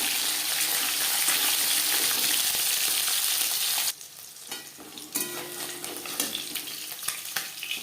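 Fresh fish fries lightly in hot oil, a loud, steady sizzle for about four seconds that drops to a quieter crackle before swelling again into renewed sizzling.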